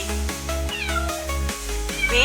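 Kitten meowing several times in quick succession over a steady musical backing with rhythmic beats, the meows high and drawn out, fairly close and clear.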